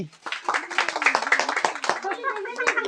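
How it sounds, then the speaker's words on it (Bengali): A group claps hands together to honour a child winning a prize in a kids' game, brisk rhythmic clapping up close with voices and children chattering underneath. "সবাই মিলে হাততালি"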